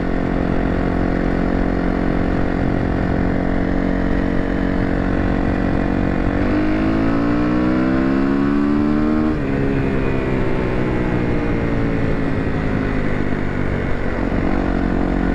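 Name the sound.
motorcycle engine riding in fifth gear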